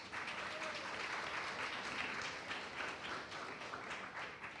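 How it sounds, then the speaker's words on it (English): An audience at a student career talk gives a round of applause, steady dense clapping throughout, quiet and somewhat distant, with no talking over it. "Please give them a round of applause."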